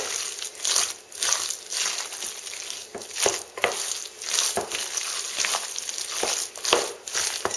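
Ground beef meatloaf mixture with egg, salt and pepper being mixed by hand, giving a steady run of wet, squishy squelches and slaps up close, with no talk.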